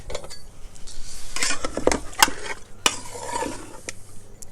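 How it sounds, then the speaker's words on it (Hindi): A spoon scrapes and clinks around the inside of a metal pot, stirring spices and water for chicken karahi in quick, irregular strokes, close by, with a faint sizzle underneath. "अब इन सारी चीज़ों को अच्छी तरह मिक्स कर लेंगे।"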